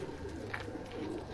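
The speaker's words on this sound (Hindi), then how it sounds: "ये गाजी वाले कबूतर हैं जी।" Ghazi pigeons on a rooftop give soft, low cooing, faint and close, with a brief sharper note partway through.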